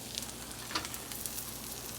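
Oil sizzling steadily in a frying pan with an egg and potato scramble, a continuous close crackling hiss with small pops and no voices.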